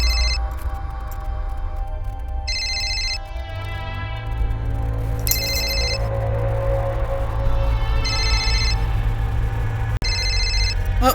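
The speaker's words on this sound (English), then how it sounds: "Oh, looks like that's our phone." A telephone bell rings in repeated short bursts over a steady background of music and low hum in a video game, loud and close, with pauses between rings.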